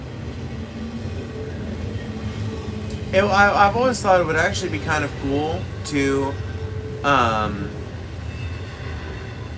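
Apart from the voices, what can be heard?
passing train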